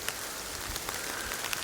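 Steady rain patters on leaves and ground in a forest in South Korea on a misty, cold day, a dense even hiss with scattered louder drops and no voices.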